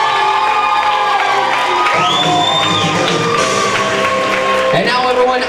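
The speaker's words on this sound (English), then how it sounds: "how about a great round of applause for your bride and groom" Wedding reception crowd cheering, whooping and shouting for the bride and groom, loud and sustained throughout, with music tones and excited voices mixed into the din.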